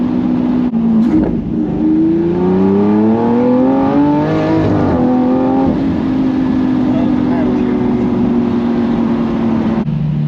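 A Lamborghini Aventador SV engine accelerating hard, its close, loud roar climbing in pitch through gear changes, with people talking over it inside the car.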